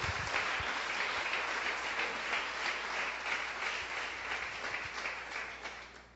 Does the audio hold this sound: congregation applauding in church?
yes